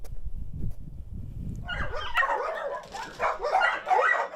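Dogs barking and yipping inside a house crowded with nearly 80 dogs living in poor conditions, a noisy overlapping chorus of mid-distance barks that starts after a low rumble and keeps going.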